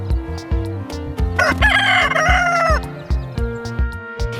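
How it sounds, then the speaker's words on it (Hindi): A rooster gives one long, loud cock-a-doodle-doo in the middle of the clip, rising and then trailing off, over a steady rhythmic musical beat with low thumps, with no talking. "ये है रूस्टर। रूस्टर को हिंदी में मुर्गा कहते हैं।"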